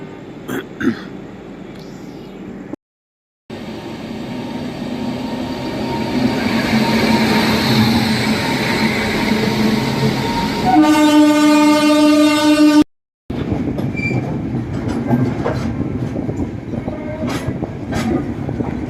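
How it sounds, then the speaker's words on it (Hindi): Slow goods train rolling through Patna Junction, a loud continuous rumble and clatter of wagons passing close by, with a sustained horn blast near the end, heard in a busy station setting. "उधर से ट्रेन आ रही है और लोग ट्रैक पे खड़े हैं। खैर है आई थिंक गुड्स ट्रेन है तो इसलिए स्लो है।"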